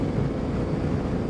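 Wind buffets the microphone outdoors on an adventure motorcycle ride along Thomson Gorge Road in New Zealand, a dense low rumble that is constant and loud, with no voices.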